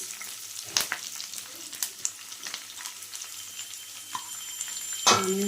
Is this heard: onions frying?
yes